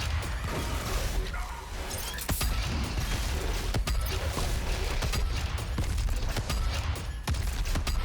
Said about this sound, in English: Let's use some rockets.